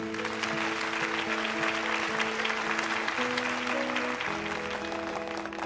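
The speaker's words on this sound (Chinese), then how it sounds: "好的，感谢各位的掌声。" Applause at a sculpture award ceremony, a steady crowd clapping that fills the hall for several seconds while background music tones run underneath.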